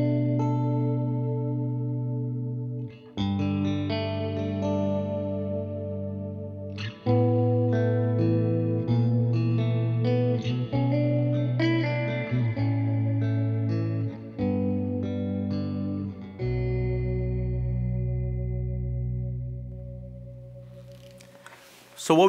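An electric guitar plays sustained chords and notes through a stereo reverb pedal feeding both a tweed amp and a second reverb-heavy amp, producing a lush, ringing blended tone with long decays and pauses between phrases.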